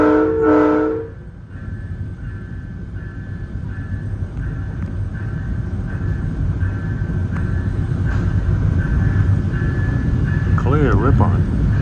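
A VRE commuter train, number 312, running from Spotsylvania to Washington DC, sounds a loud multi-tone horn blast at the start. A steady rumbling run follows, with a thin sustained whine on top and a short horn chirp near the end.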